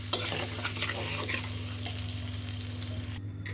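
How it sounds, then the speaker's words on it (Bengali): Duck meat frying in hot oil with a little salt and turmeric, a steady close sizzle with stirring scrapes in the pan over a low hum, ending abruptly. "আমি হচ্ছে হালকা একটু লবণ দিব, আর হচ্ছে হালকা একটু হলুদ দিয়ে সুন্দর করে ভেজে নিব"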